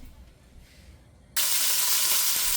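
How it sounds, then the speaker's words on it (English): Oil bursts into a loud, steady sizzle as vegetables are stir fried in a pot, the hiss starting abruptly halfway through and continuing without a break, alone and close. "I've been stir frying this up a little bit so it has all that yummy stuff on the bottom, and it released a little bit of the oil"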